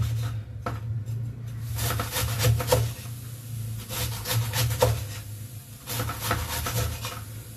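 A knife saws back and forth across the grain through a fibrous banana stem, rhythmic rasping strokes up close, repeated steadily over a low hum.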